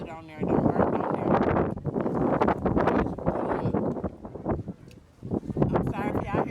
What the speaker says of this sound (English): I'm sorry if y'all hear some wind,